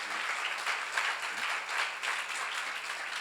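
A church congregation at a seminar applauds, a continuous, even wash of many hands clapping at moderate distance with no talk over it.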